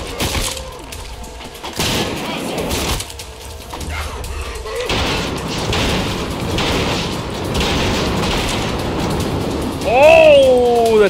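Two grenades go off in the shooter Trepang2, giving heavy, booming blasts amid ongoing combat noise, with a loud swelling tail near the end; someone talks over parts of it.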